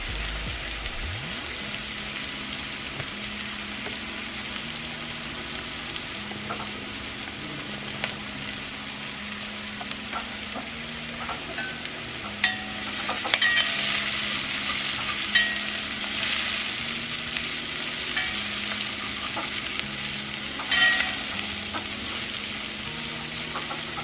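Curry chicken wings frying in oil in a pan, a steady, dense sizzle with crackling pops that holds evenly throughout, close and moderately loud with no talking.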